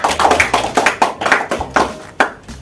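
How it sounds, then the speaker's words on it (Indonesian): A small classroom group claps for student teams in a quadratic functions lesson, giving a short, uneven patter of hand claps that lasts a couple of seconds, close and fairly loud. "Kasih aplaus untuk kelompok 3 dan kelompok 2 ya"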